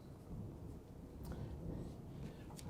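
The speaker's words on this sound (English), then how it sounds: "there is thunder in the background" A low, rumbling roll of distant thunder before a coming downpour, continuous and muffled in the background for a few seconds.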